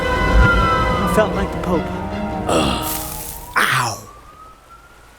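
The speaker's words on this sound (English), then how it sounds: "with hundreds of cop cars on my tail, blaring their sirens." Police car sirens blaring in a collapsing, flooding tunnel: rising wails with a faint sustained tone under a man's speech and bursts of noise.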